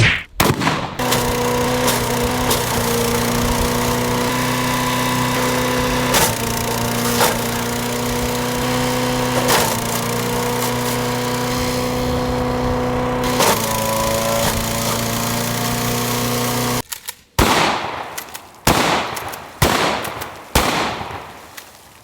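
A slug gun firing saboted slugs at an eggplant target outdoors, a long steady engine-like drone broken by several sharp cracks, then a dense cluster of loud, close impacts and bangs at the end.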